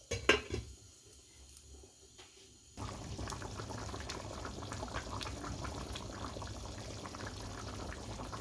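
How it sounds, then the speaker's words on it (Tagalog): Garbanzo beans boiling in a covered pot, a steady bubbling simmer that starts quiet and thickens into a fuller, constant boil after a few seconds, with faint clinks near the start and no talking. "pagluto na ang ating garbanzos. Takpan natin"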